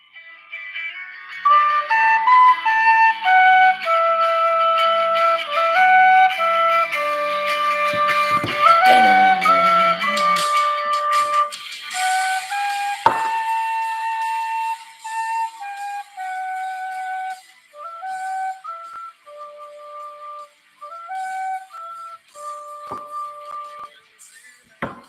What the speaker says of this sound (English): the tin whistle playing was on point